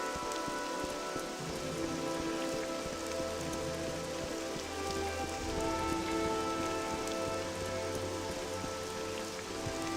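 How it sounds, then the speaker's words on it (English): Steady rain pattering in the game Morrowind, a continuous even wash of drops on surfaces with a low droning tone underneath, no speech. "Let's wait 3 hours out in the rain like a sucker."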